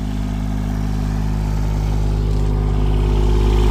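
Engine of a rock-flinging machine idling steadily out in a grassy field, a loud continuous mid-pitched drone with a slight rise in intensity toward the end, no voices.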